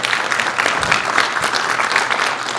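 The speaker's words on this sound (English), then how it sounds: "So big round of applause for all of you." Sustained applause from a conference audience at a national patient gathering, steady and dense throughout with no voices rising above the clapping.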